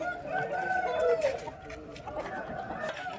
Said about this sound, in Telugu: ప్రస్తుతం మనం చూస్తున్న కోడిపల్లి అయితే మంచి కాగిడాగా అండి